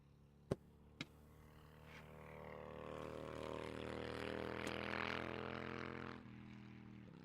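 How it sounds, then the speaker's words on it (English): A motorcycle passes by outside, its engine rising to a throaty roar and then fading away, after two sharp knocks near the start. "Motorcycle."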